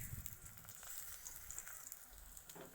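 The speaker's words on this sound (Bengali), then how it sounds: "হালকা করে মাখিয়ে তারপরে আমি তেলের মধ্যে দিয়ে ভেজে নেব" Batter-coated water hyacinth flower fritters fry in hot oil, giving a quiet, steady sizzle with faint crackles throughout, with no talking.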